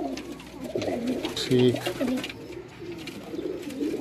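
A Teddy pigeon coos in soft repeated low calls close by, with someone briefly talking over the birds.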